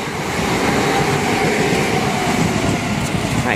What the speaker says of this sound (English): that is the 1503 Southeastern Mainline service from London Victoria to Dover Priory, formed of 375-708